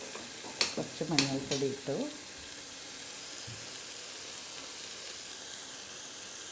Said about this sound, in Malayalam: നന്നായിട്ട് ഫ്രൈ ആവട്ടെ